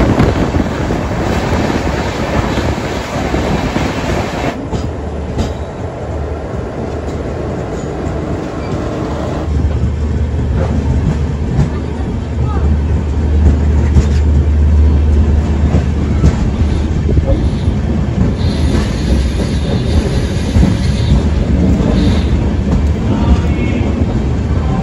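The Howrah–Puri Superfast Express runs at high speed, a loud, steady roar of wheels on rail with wind rushing past, heard from on board and growing slightly louder midway.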